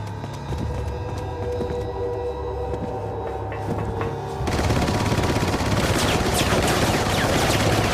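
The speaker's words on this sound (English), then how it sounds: "I like how her shooting him in the chest actually made him stumble back and flinch" Gunfire in the Resident Evil 4 Separate Ways boss fight: sparse single shots over a game soundtrack, then a sudden dense, continuous burst of rapid firing and impacts filling the last half, loud and without speech.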